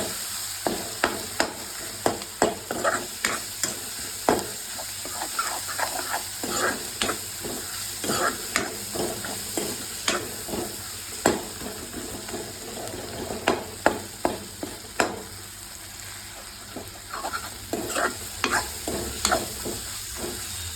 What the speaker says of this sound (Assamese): এতিয়া পিঁয়াজে বিলাহীয়ে পুৰা ভালকৈ ভাজি ল'ম।